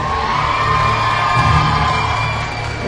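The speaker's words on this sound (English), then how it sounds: "One more time, big round of applause" At a 2007 MLG Las Vegas esports championship final, a large arena crowd cheers, whoops and yells in a loud, continuous roar that swells briefly near the middle before easing slightly.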